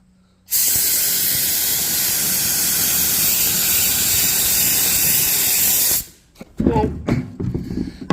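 A steady, loud hiss of spraying onto two cab kit pieces for a Massey Ferguson 750 combine runs unbroken for about five seconds, then cuts off, followed by a few clunks and handling noises.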